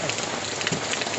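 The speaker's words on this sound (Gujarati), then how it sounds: "જેતપુરમાં આજે ધીમી ધારે જે વરસાદ ચાલુ થયો હતો" Light, steady rain patters on surfaces in Jetpur, Gujarat after a spell of oppressive heat. The shower is a brief, even wash of close drops with no voices.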